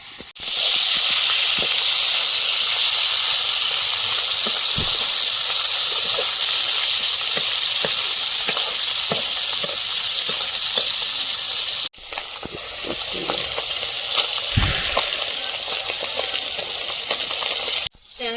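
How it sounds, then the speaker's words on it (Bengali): Tengra fish fry in hot oil in a wok, producing a loud, constant hiss and sizzle with occasional pops and spatula taps, briefly interrupted near the end; no speech. "মাছগুলো ভাজা হয়েছে তুলে নেব"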